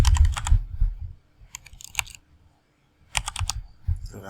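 A username being typed on a computer keyboard: quick bursts of crisp key clicks, close and clear, separated by short pauses, with a couple of brief clusters of tapping and no talk.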